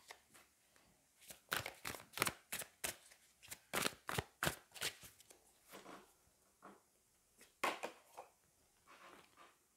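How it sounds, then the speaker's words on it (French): Tarot cards are shuffled and drawn by hand in a quiet room, making a run of quick, close papery riffles and flicks in uneven bursts, then softer slides and taps. "je vais prendre une autre carte"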